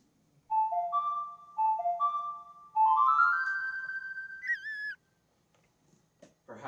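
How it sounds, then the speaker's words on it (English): Magic flute played in a cartoon parody of Legend of Zelda: a short whistled melody of clear held notes in three phrases, the last rising and ending with a wavering high trill, close and alone. "Maybe we can use my magic flute to work through all the hard parts."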